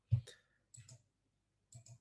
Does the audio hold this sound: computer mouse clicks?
yes